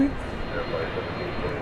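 An airliner at DFW Airport at night gives off a steady, loud, broadband engine roar that holds without a break.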